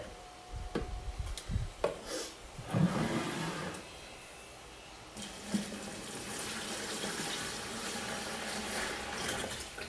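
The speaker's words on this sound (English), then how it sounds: "I'm gonna mix this right in." Pickling lime is being stirred into half a gallon of water for preserving eggs, with soft splashing and sloshing in bursts, then a steady watery swirl, fairly quiet and close.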